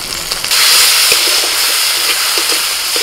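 Spice paste for vegetable biryani frying in a pan gives a steady, close hissing sizzle that swells after a brief quieter start, with faint scraping clicks of stirring.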